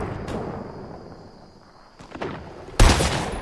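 Gunfire in the video game Fortnite, a faint distant shot early on followed by a sudden loud close burst near the end over low game ambience.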